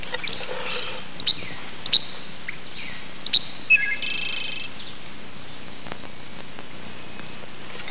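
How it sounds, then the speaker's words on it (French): Sharp repeated bird chirps come in short bursts over a steady insect buzz, with a sustained high trill toward the end and no voices. "Il faut que je capture les sons de cette forêt."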